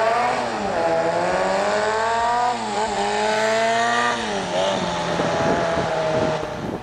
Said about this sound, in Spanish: Como la moto posee 4 cilindros, su sonido es excelente y no dista del de una moto grande